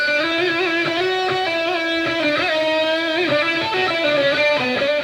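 An isolated, heavily distorted electric guitar solo plays fast bending and vibrato lead lines, loud and continuous with no other instruments or voices.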